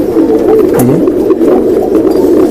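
A silver-breed pigeon in an Old Dhaka home coos in a continuous low, throaty murmur, loud and close, with a brief deeper swoop partway through.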